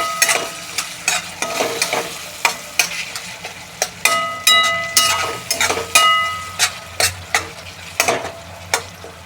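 Susla mixture of soaked puffed rice being sautéed in a pan after coriander and lemon juice are added, a low sizzle broken by regular sharp scrapes and clinks of a spoon against the pan, close and fairly loud, no speech.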